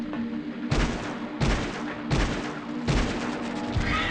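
Four heavy gunshots from the video game Silent Hill Origins, evenly spaced about every 0.7 seconds, loud booming reports over a steady game background, with no talk over them.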